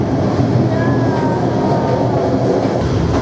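Train running on rails as it gathers speed during an Interrail trip, a steady loud rumble and rattle filling the whole clip with a faint high squeal partway through.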